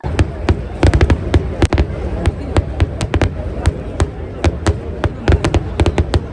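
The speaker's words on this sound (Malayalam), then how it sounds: "നമ്മൾ വെടിക്കെട്ടിൻ്റെ എത്രയോ അടുത്താണ് നിൽക്കുന്നത് പക്ഷെ അത് എത്രയോ ദൂരത്തു നിന്നാണ് പൊട്ടി വരുന്നത്" Rapid, irregular bangs and crackles of fireworks going off in dense bursts, loud and continuous over a background murmur of a crowd.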